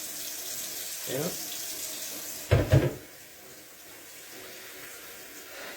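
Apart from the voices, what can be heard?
tap water filling a kettle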